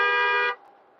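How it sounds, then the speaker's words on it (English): One steady, loud RV horn blast lasting about half a second, then cutting off, with no other sound around it. "Are you gonna honk the horn for everybody?"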